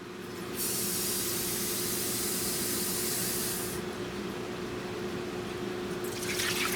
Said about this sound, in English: Then we're gonna sit there and add 1 cup of water.